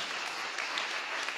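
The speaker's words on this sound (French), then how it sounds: "On pourrait à nouveau l'applaudir." Applause from an audience at an award ceremony for women's trade trophies, dense steady clapping throughout at moderate distance.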